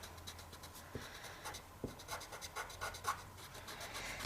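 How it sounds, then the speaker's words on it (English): A pencil eraser rubs guidelines off a drawing on paper, giving soft, close scratchy strokes in quick repeated bursts with a couple of light taps. "And then erase the guidelines inside."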